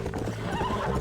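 A horse whinnying in the video game Red Dead Redemption, a brief close neigh over rapid hoofbeats as the animal runs.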